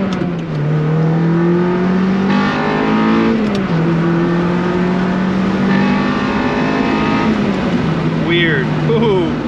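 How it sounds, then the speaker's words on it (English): An Acura RSX engine climbs through a wide-open-throttle pull into VTEC, a loud, close, steadily rising drone with a brief dip as the pitch shifts, continuous throughout. "there is like very interesting noise whenever the car gets into VTEC"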